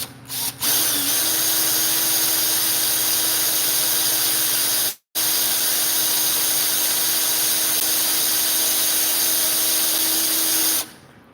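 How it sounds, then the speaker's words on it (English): A power drill bores a hole during a robot build, one continuous loud high whine lasting about ten seconds, broken by a single brief stop midway before spinning up again; no voices. "that helps my drill bit guide so I don't have to drill through my finger"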